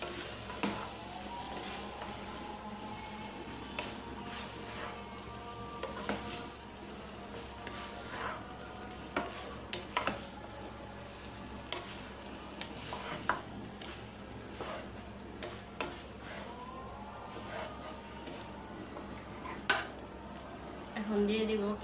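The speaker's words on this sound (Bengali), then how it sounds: "ভাত আমি লবণ আর তেল দিয়ে রান্না করছি।" Rice stir-frying in salt and oil, with a steady sizzle underneath and a spoon scraping and clinking against the pan at irregular intervals throughout.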